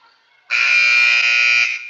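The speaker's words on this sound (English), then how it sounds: "And there's the buzzer." A long, loud electronic buzzer sounds in a school gym at a volleyball invitational, a single steady blast lasting over a second before cutting off, with faint room noise before it.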